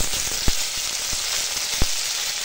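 Chopped tomato hits hot mustard oil left from frying hilsa fish, with onion and green chili already in the pan, giving a loud continuous sizzle broken by a couple of sharp pops and clicks.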